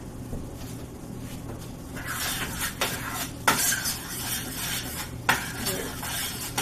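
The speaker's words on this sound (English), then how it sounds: "Mixing and mixing and mixing." A spoon scrapes and stirs macaroni and cheese with melting butter in a pot, repeated close clinking and scraping strokes in a steady rhythm, with no talking.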